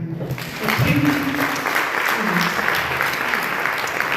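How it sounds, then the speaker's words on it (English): Audience applause at a high school matric dance, a steady wash of many hands clapping that swells after a brief quieter start and continues evenly throughout. "And I think you guys can clap hands for everyone."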